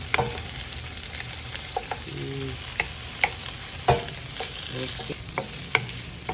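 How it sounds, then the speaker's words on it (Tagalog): Spam fries in a pan with a soft, steady sizzle, punctuated by sharp utensil scrapes and taps as it is stirred, and a brief spoken word is heard. "We can fry the spam, okay?"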